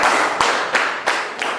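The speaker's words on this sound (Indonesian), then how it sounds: "tepuk empat kali" Hands clap four times in an even, unhurried rhythm, each clap a sharp, close slap over a hissy, noisy room background.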